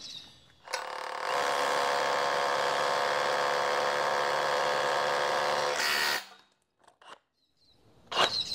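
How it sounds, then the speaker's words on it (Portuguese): Bosch GBH 187 cordless rotary hammer drilling with a 12 mm bit: a steady high-pitched whining buzz runs for about five seconds, close and loud, followed by faint knocks and clicks. "Agora com uma broca de 12 milímetros."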